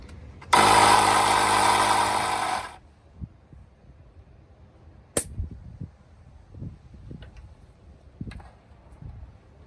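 An air pump inflating racing wheelchair wheels to 120 psi gives a loud, steady hiss of about two seconds, followed by quieter clicks and handling noises.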